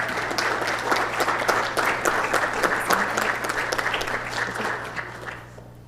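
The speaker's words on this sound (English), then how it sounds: "let's give a great round of applause for National Colorectal Cancer Awareness Month" Applause in a council chamber during a mayor and council meeting, a dense, steady clatter of many hands that holds strong before tapering off at the end, with no talking over it.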